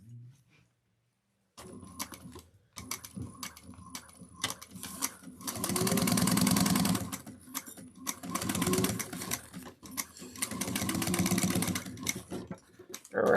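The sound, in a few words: sewing machine stitching a bag seam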